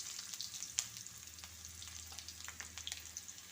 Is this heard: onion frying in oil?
yes